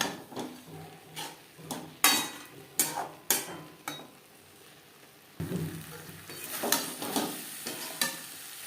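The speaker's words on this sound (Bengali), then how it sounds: "সর্ষে বাদাম ও দুধ যেটা আমি একসাথে বেটে নিয়েছি হাই টু মিডিয়াম ফ্লেমে আরও তিন চার মিনিট রান্না করব" A paste of ground mustard, peanuts and milk cooks in a pan over a high-to-medium flame, giving a steady sizzle broken by repeated sharp scraping and clinking strokes of a spoon against the pan.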